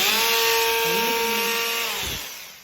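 A power sanding machine works a wooden panel for a wainscot base, giving a steady, close, high motor whine that holds for about two seconds, then dips and fades near the end.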